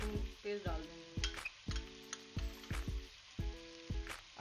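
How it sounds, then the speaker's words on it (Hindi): Ginger garlic paste frying in hot oil for mutton karahi, with spoon stirring and scraping against the pan in repeated short strokes over a soft sizzle, fairly quiet and close. "अब मैं इसमें ये बाकी का अदरक और लहसुन पेस्ट डाल दूंगी।"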